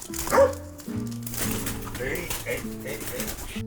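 Dogs bark nearby at a campsite on private land, with short, uneven yelps and whines mixed in among people talking.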